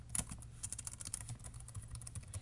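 Login details being entered on a computer keyboard, a brisk, uneven stream of close, crisp keystrokes with no voices.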